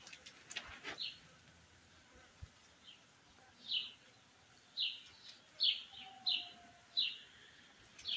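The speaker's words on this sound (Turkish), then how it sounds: "Kuşlar da ötüyor cıvıl cıvıl." Small birds in a village garden give repeated short chirps at spaced intervals, fairly close but soft, over a quiet rural background.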